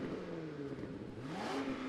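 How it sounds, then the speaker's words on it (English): A twin-turbo V8 with a valved exhaust revs up and down, its deep exhaust note rising in pitch twice over a steady rumble, close by and loud. "it's a valved exhaust, and since this is a twin turbo V8"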